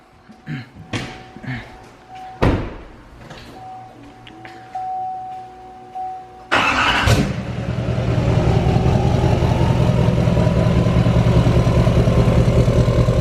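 A few clunks and a door slam, then a truck engine cranks and catches on a first startup after a coolant fill, settling into a loud, steady rumbling idle.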